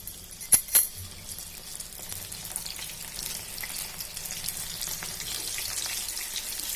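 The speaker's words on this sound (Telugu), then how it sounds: "ఇట్లా మంచిగా ఫ్రై కావడానికి అయితే కొంచెం టైం అయితే తీసుకుంటుంది" Chana dal frying in hot oil for a crispy masala dal snack, a steady bright crackling sizzle that runs throughout after a couple of sharp clinks at the start.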